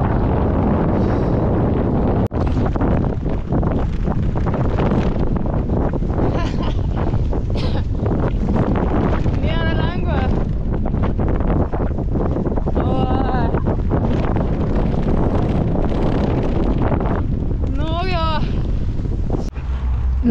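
Strong wind buffets the microphone on a bicycle ride around Lake Constance, a loud, constant roar that runs throughout, with a voice speaking briefly in places beneath it.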